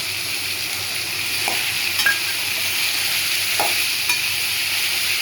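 Drumstick, raw mango and green peas sauté in a pan with a steady, close sizzle, punctuated by occasional light clinks of a spoon against the pan.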